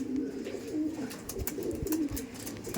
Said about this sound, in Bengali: প্রত্যেকটা পায়রা এখানে আনার সঙ্গে সঙ্গে এত ছটফট করছে